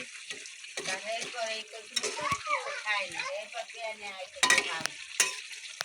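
Food sautés in a pan, a close, uneven sizzle with stirring and scraping under a person's talk, with brief louder bursts near the end.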